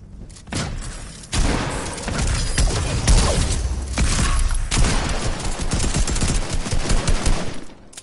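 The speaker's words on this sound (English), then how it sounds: "I hear shots. They're shooting at you, Amanda" Gunfire in the video game Fortnite crackles in dense rapid volleys almost without pause, loud and close, with occasional heavier thumps mixed into the sustained shooting.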